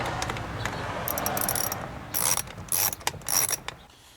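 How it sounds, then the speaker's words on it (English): A star drive screwdriver works a screw out of a 2003 BMW 525i door panel, giving a run of close, quiet ratcheting clicks and short scraping bursts, with no talk. "I'm going to be using a star drive to get this guy out of here"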